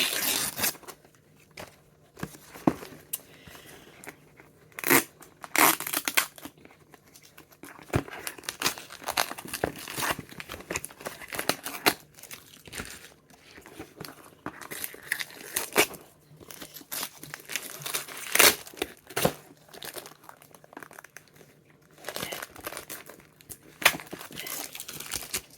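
Repeated rips and crinkles of sticky tape being pulled and torn, in irregular bursts with short pauses, close and fairly loud.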